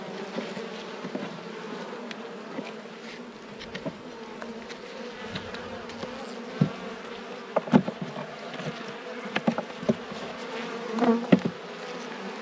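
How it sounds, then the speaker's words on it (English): Dense buzzing of honey bees, close and continuous, with scattered knocks and bumps breaking through the hum. "Little cluster of bees up here."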